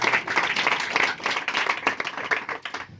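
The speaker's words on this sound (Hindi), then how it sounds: "बैठ जाओ, ताली बजाओ यीशु मसीह के सामने" Audience at a large Christmas church gathering in Chhattisgarh clapping together, a dense, steady patter of many hands close by that fills the whole stretch with no break.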